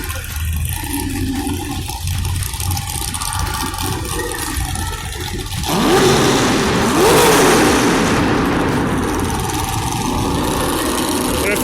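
A 1000-horsepower Chevrolet V8 drag car rumbles loudly in an indoor show arena, a steady throaty idle that swells into a louder, rising roar of revving partway through.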